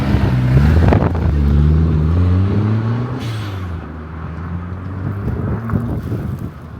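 An old turbocharged classic car at a classic car auction accelerates hard, its engine note rising through gears with a shift around the midpoint, loud and close with wind buffeting the microphone.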